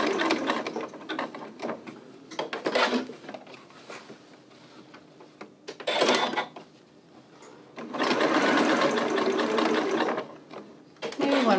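A sewing machine stitches back and forth over a skinny piece of elastic in several loud, close bursts of rapid whirring, separated by quieter pauses.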